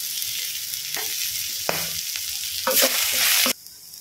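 Veggie and egg noodles, Indian street style, stir-fried with chili powder in a hot pan, with a steady loud sizzle and several sharp scraping stirs of a spatula, close and without speech.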